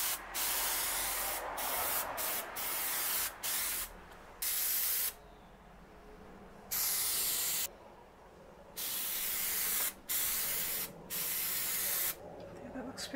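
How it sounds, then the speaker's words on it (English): Bursts of aerosol spray hiss in repeated short and long blasts as rubber coating is sprayed onto a Dodge Charger spoiler in a garage, separated by quiet pauses, close and fairly loud. "So as I'm spraying, I'm going to make sure that it's really nice and glossy"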